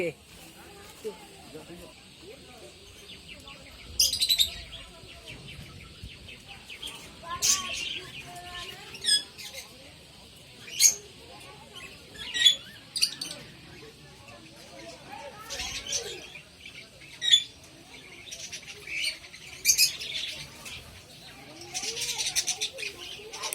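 Budgerigars and lovebirds at a bird park chirp in short, scattered bursts of bright tweets, some near and sharp, spread across a quiet background.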